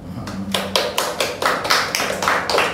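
Podcast hosts clap their hands in a steady run of about ten sharp claps, close and loud, with no talking over them.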